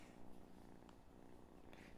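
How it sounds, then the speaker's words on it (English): A male house cat purrs steadily and close up, a continuous low rumbling drone that holds for the full two seconds with no voices over it. "It's my boy that purrs so much."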